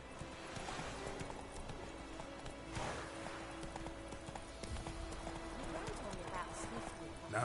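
Horse hooves clatter in a steady galloping rhythm in The Witcher 3, heard with in-game ambience and character speech over the top at moderate level.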